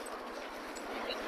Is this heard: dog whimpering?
yes